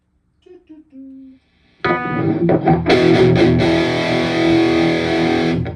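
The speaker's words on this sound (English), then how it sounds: "Oh, we need distortion." A few quiet spoken sounds, then a loud distorted electric guitar chord from a Schecter in normal tuning crashes in and rings out with heavy, buzzing sustain.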